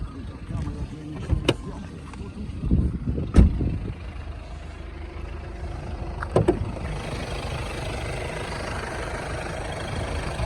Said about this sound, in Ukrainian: Двигун працює рівно, ніяких лишніх шумів, вібрацій не виявлено